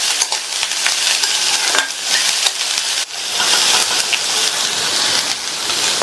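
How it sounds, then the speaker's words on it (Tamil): Finely chopped green beans sautéing in oil over high flame, a loud, steady sizzle close up with the scrape and clatter of stirring throughout. "பொடியா கட் பண்ண 200 கிராம் பீன்ஸ் எண்ணெயிலேயே 2 நிமிஷத்துக்கு ஹை ஃப்ளேம்ல வச்சு வதக்கிக்கலாம்."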